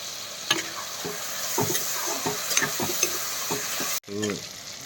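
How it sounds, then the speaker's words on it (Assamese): Meat sizzles in hot oil with ginger, garlic and whole chili, a steady close frying hiss broken by repeated scraping stirs of a utensil against the pan, with a brief clatter near the end. "আদা ৰচুন জলকীয়া পূৰা দি লওঁ আগতে দি পেলাই ভাজি আছোঁ মই"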